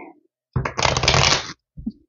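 Tarot cards are shuffled once in a quick, close riffle lasting about a second, followed by a short soft tap.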